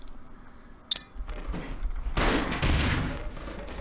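Gunfire in the side-scrolling action game Broforce from a thrown shield that turns into a gun: a sharp metallic ping, then bursts of rapid, loud shots and explosive crackle grouped into close, punchy volleys.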